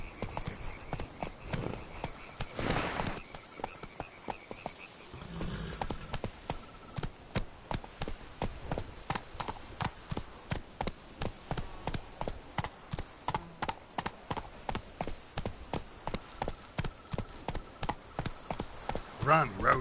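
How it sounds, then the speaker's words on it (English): Horse galloping in a PS4 game, a steady fast run of hoofbeats that stays loud and regular through most of the stretch, with a rider's calls and talk over it. "Run, Roach."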